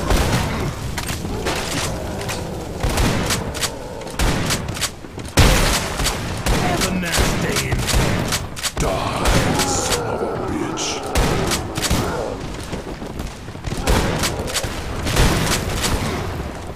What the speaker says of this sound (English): Explosions going on down there.